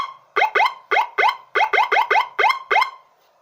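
Electronic 12-tone siren sounding its first tone: a rapid series of about ten sharp, rising electronic chirps in quick rhythm, loud and close, then stopping abruptly.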